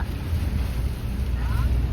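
Strong cyclone wind at Bhal near Bhavnagar buffets the microphone in a steady, loud low rumble with gusty fluctuations, heard close and continuous.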